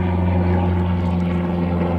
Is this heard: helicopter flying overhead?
yes